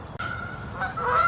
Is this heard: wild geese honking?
yes